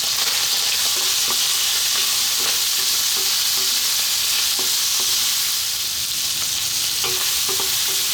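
Steady, dense sizzling of onions and garlic frying in a hot pan over high heat, with occasional soft clicks and scrapes of stirring throughout.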